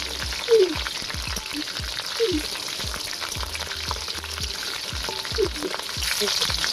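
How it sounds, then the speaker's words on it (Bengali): Chopped tomatoes sizzle in a pan with prawns, a steady close frying hiss broken by occasional stirring scrapes and clicks, with no voices over it. "তো আমি এইবারে কেটে রাখা টমেটোগুলো দিয়ে দেবো।"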